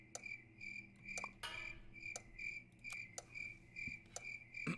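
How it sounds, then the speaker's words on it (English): Crickets chirp as a looping sound effect in the Super Auto Pets video game, with regular sharp chirp bursts about every half second, steady and fairly quiet over soft background music, with no talk. "I honestly don't like how often the cricket noise is on this screen."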